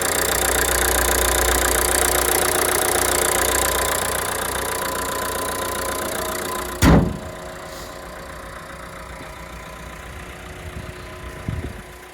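A 2017 Renault Kangoo van's 1.5-litre diesel engine idles with a steady low rumble, then a sharp thump cuts it off, leaving quieter background with a couple of faint knocks.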